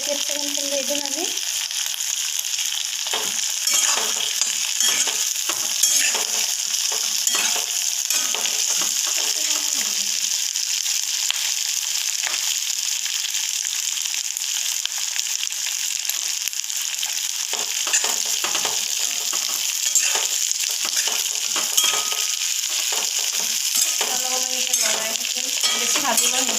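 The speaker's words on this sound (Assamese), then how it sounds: "এতিয়া কেপচিকামখিনি দি দিম আমি।" Capsicum stir-frying in a pan for chilli chicken, a continuous close hiss and crackle with faint scraping of the spatula, steady throughout with no talk.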